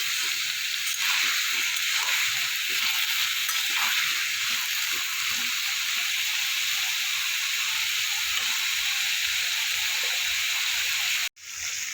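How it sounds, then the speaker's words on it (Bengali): White potatoes frying in a pan for a potato curry produce a steady, bright hiss and sizzle that holds evenly before cutting off abruptly near the end. "আলুগুলো এবার একটু ভালো করে ভাজা ভাজা করে নেব।"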